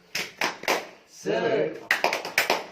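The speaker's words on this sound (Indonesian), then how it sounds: "Tepuk semangat." A group of women at a community training session perform a rhythmic spirit clap: three crisp bursts of unison claps, then a chanted shout, then another quick run of claps, all loud and close.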